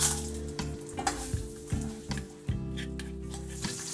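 Ghee, hing and spices frying in a pan for a dhaba-style lauki chana dal, a close sizzle with a steady low hum and repeated stirring clacks.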